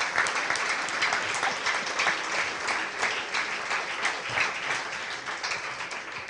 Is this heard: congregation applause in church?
yes